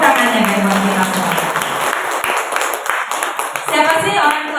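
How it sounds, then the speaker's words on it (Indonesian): Audience at an early-childhood parenting seminar applauds steadily, a dense wash of clapping that holds at an even level throughout, with a voice briefly audible near the start. "Tepuk tangannya buat kita semua."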